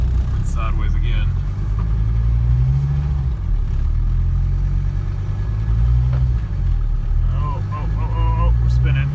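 A Mercedes 300D diesel car drives along a muddy path and briefly slides sideways, its low engine rumble steady and close throughout, rising and falling with throttle, while people talk over it.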